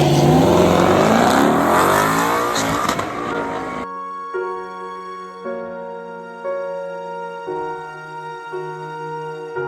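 A twin-turbo 2020 Mustang GT launches down a drag strip on a cool night, a loud roaring burst of engine and tire noise that cuts off abruptly and leaves a faint, steady tonal hum.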